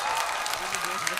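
Audience applause at a mushaira poetry gathering, dense steady clapping from a crowd filling the whole short moment without a break.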